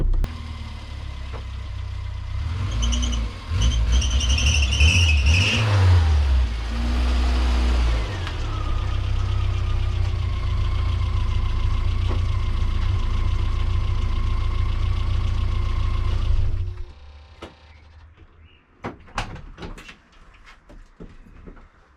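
A classic Mini engine fires up straight away with a loud clatter and settles into a steady, close idle for several seconds, then cuts off, leaving quieter knocks and rustling.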